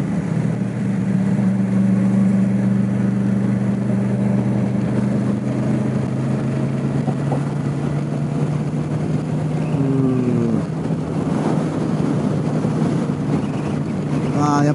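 Strong wind buffets a motorcycle rider crossing the blue Ikitsuki Bridge on Ikitsuki Island, Nagasaki, making a loud, steady roar over a droning engine that runs throughout, with a voice speaking briefly near the end.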